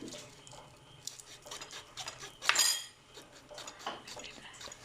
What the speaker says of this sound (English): we'll take off the tip, front and back of the garlic